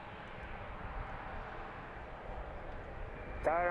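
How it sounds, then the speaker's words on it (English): A Southwest airliner taxis onto the runway at Washington's DCA airport, heard as a steady, distant jet engine rumble and whine with outdoor background noise and a brief faint tone at the very end. "we have Southwest taking the runway"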